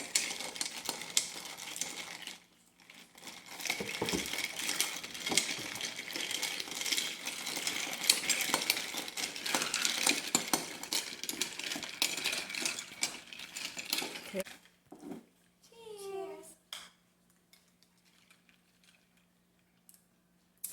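Green tea being stirred to mix it, a busy run of clinking and scraping that fades into silence, then a short rattle and a few scattered small knocks.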